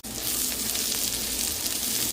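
Sliced ivy gourd frying in hot oil in a big pan gives a loud, steady, close sizzle that runs unbroken before cutting off abruptly.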